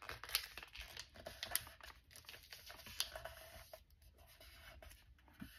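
Paper is folded and creased by hand while making a mini accordion folio craft, with soft crinkling, rustling and brushing strokes up close and quiet.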